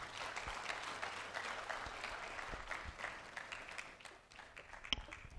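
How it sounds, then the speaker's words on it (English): Faint, distant audience clapping at a large blockchain conference in Africa, a soft, continuous patter of many hands that thins out toward the end with a few sharper single claps. "You should keep clapping."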